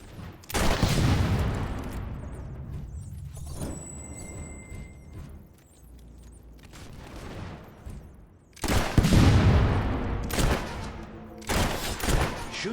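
Gunfire in the video game Fable 3 comes in loud, dense volleys: an opening burst fades into a quieter stretch, then heavy shooting returns around the middle and recurs in shorter bursts toward the end. No one speaks.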